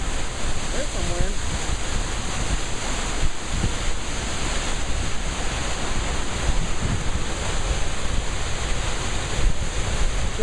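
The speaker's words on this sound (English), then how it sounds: "There's some wind." A wind storm in Lincoln, Nebraska, blows hard and continuously, a steady roaring rush buffeting the microphone with no breaks for about ten seconds.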